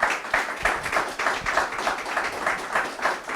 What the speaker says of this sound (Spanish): Fuerte aplauso a nuestra unidad.